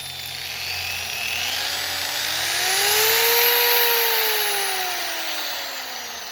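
A Chicago electric polisher from Harbor Freight runs steadily as a slow-speed hand grinder, a close, loud motor whine that rises and falls slightly in pitch as the load changes, with no talk.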